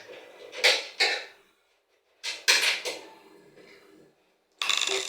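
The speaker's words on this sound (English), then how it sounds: "I'm going to unscrew the door switch." Screws being worked loose on the door switch of a washing machine, heard as a few short scraping, rattling bursts of metal handling, separated by pauses, close by and fairly quiet.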